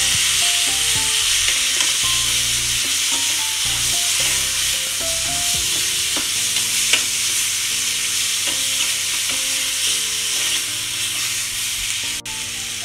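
Minced mutton keema stirred as it fries in a pan, a steady loud sizzle under repeated scraping of a spoon against the pan, with no talking.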